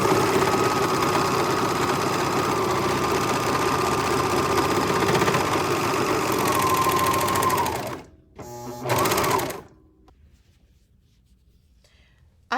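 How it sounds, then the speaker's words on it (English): A Janome 8002D serger runs steadily while edging a towel, a loud, fast, even mechanical whir for about eight seconds, then a short final burst before it stops and goes quiet. "I went ahead and serged it, and I'm using this Janome 8002D serger machine for that"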